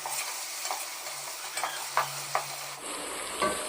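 Green chilies sizzle softly in oil in a pan while a spoon scrapes and stirs in short bursts, then a brighter hiss rises near the end.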